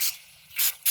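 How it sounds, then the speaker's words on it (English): Restyle Flexible Styling Mist misted onto hair from a close pump spray: two bright hissing bursts with a quiet pause between, then the start of a third, each a soft airy whoosh. "Notice the way it sprays out the mist."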